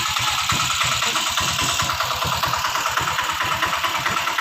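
An auto rickshaw engine idles close by in a steady, rapid chugging throb that holds even and loud throughout, with no talk.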